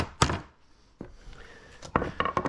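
Hammer blows knocking nails out of a wooden pallet during disassembly, three sharp separate impacts followed by a cluster of quicker, lighter taps, close to the microphone.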